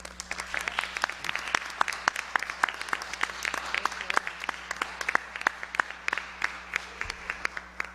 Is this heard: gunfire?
no